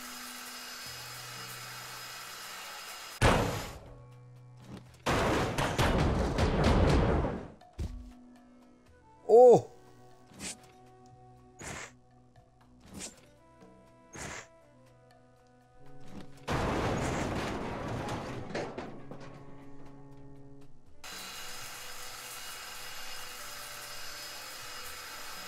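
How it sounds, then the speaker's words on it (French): A circular saw cuts metal in the salvage video game Ship Graveyard Simulator 2. Several short, harsh, whirring bursts are separated by quiet gaps, with a few sharp clanks and tonal blips between the cuts. "On va mettre des petits coups de scie circulaire."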